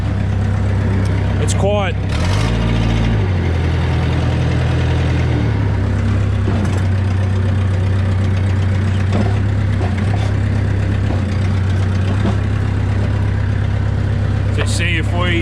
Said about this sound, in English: So as you can hear, it needs a muffler in it.